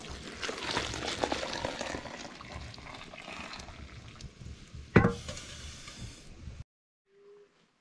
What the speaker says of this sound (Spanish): Ahora lo que voy a hacer es echar agua caliente, entibiar con agua fría